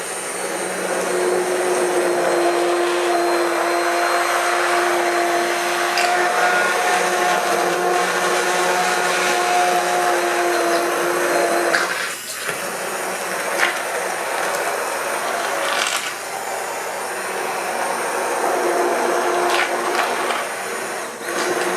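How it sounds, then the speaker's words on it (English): An immersion blender whirs steadily through a pot of homemade salsa for canning, a loud continuous motor drone with a steady tone that dips briefly midway, then resumes as the blade churns the chunky mixture. "now I'm going to use the immersion blender"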